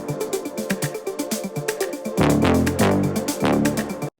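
A synth brass stab remake of the one in Cassian's progressive house track Lafayette, built in Serum; rapid rhythmic chordal stabs pulse closely, then broader sustained chord hits follow, loud and alone.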